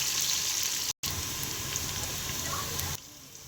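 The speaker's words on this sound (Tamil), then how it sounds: "அடுத்து தட்டி வச்சுக்க இஞ்சி பூண்டு அதையும் நல்லா கொஞ்சம் பச்சை வாடை போகிற வரைக்கும் கொஞ்சம் வதக்கி விடணும்" Crushed ginger and garlic sautéing in a pan for a mutton intestine curry give a steady, dense sizzle, close and fairly loud, that cuts out briefly and then eases slightly near the end.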